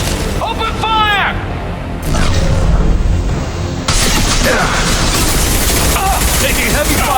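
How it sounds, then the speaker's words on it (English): Heavy gunfire erupts in a Mass Effect 2 battle: dense, rapid bursts of shots and booming impacts layered with combat effects, loud and continuous, with voices speaking throughout. "Taking heavy fire!"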